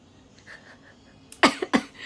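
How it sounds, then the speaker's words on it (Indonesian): After a quiet moment, two or three harsh coughs burst out in quick succession, close and loud. "Batuk deh gue."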